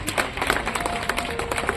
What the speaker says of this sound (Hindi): इन बहादुर कैडेट्स के लिए NCC की जो टीम है उसके लिए तालियां बजनी चाहिए